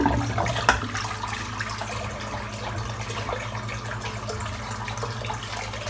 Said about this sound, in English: Just going to empty this water out because it's filthy